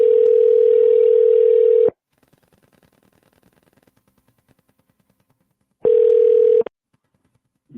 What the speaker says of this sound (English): let's see if we can get John on the phone right quick